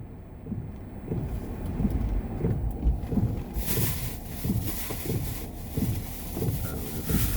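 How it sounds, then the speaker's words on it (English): A car's low, rumbling road noise mixed with wind buffeting the microphone carries on steadily from inside the moving vehicle in the morning, with a rougher, gustier burst midway. "I'm sorry for the loud noise you're hearing. That is the car."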